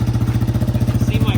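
An old 2002 Yamaha Wolverine ATV engine, left sitting almost ten years and fitted with a custom-made exhaust, chugs loud and close in a fast, even pulsing rhythm as it revs.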